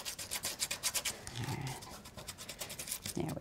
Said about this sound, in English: now what I want to do is burnish that nicely into place